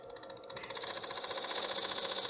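A wood lathe spins a platter blank while a 3/8 spindle gouge cuts it, giving a steady, close whirring hiss with a rapid rhythmic flutter that holds at an even level and builds slightly, with no talk.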